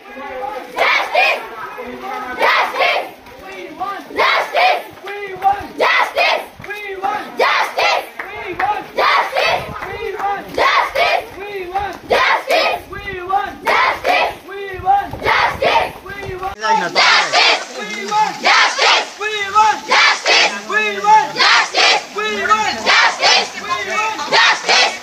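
A women's protest procession in a rural Bengal village over the RG Kar incident chants slogans in loud, rhythmic call-and-response bursts from a close crowd of voices, ongoing and energetic.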